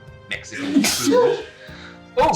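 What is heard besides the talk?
big sneeze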